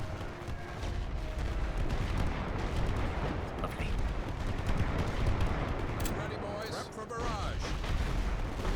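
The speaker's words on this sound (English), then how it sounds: "we're just gonna bomb right there to hit everything coming out" Bombing raid explosions in the WWI game The Great War: Western Front roll into a dense, continuous barrage of heavy blasts and gunfire, loud and unbroken from start to finish.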